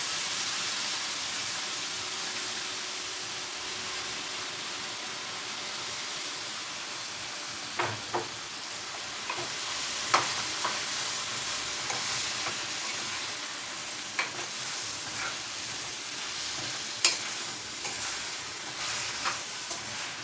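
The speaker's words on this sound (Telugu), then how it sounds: "ఇప్పుడు కడిగి పెట్టిన గోంగూర కూడా వేసేసి" Washed gongura (sorrel) leaves sizzle steadily in a hot pan for a gongura and cluster bean curry, with occasional clinks and scrapes of a spoon stirring through the steady frying hiss.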